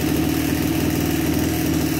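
A Maruyama MB2630 26cc grass cutter with a 34mm cylinder runs at a steady, even idle. The two-stroke engine hum is close and continuous, with no voices.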